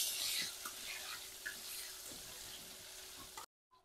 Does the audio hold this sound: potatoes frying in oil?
yes